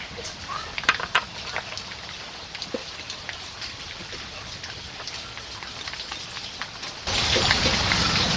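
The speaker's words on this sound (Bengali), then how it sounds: "বৃষ্টি শুরু হয়ে গেল" Scattered raindrops patter and tap on a surface, then the rain thickens into a steady, louder hiss near the end.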